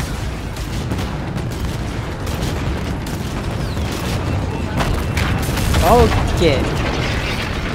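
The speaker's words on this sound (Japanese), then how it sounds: "爆発するぞ。" Explosions and gunfire from a Call of Duty: Infinite Warfare campaign battle, a dense continuous rumble of blasts and shots with a louder burst near the end, while a voice speaks briefly over the noise.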